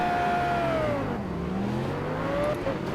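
An Audi R8 GT3 race car in Project CARS races at Road America, its engine droning steadily with a falling pitch as it lifts, then climbing again under acceleration, loud and close.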